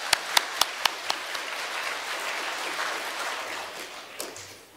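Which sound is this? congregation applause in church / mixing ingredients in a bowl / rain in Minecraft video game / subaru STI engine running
congregation applause in church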